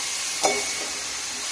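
Turmeric and coriander-cumin powder are stirred into vegetables frying in a pan, with a loud steady sizzle and a single quick scrape of the spoon early on.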